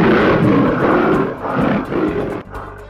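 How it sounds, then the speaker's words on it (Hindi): A tiger growling in deep, loud rumbling bursts, several swelling roars in quick succession close up, ending with a short pause and a final softer growl. "बाघ का गुर्राना 3 किलोमीटर दूर तक सुना जा सकता है।"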